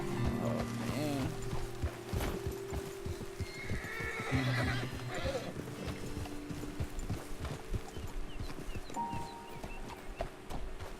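Horses in the open world of Red Dead Redemption 2 whinny and snort repeatedly over steady clip-clopping hooves, with ambient game sounds underneath and a voice briefly talking.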